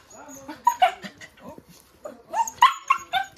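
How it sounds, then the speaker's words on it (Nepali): A dog in cramped quarters lets out a string of high whimpers and short yips, close and uneven, in two bursts separated by a brief lull. "बिचरा हाम्रो कुकुर चाहिँ बिचराको जग्गा नभएर"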